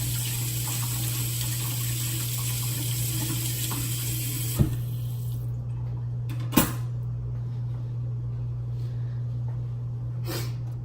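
Tap water runs steadily into a kitchen sink while something is washed during vegan naan pizza prep, then shuts off, leaving a low hum and a couple of sharp knocks.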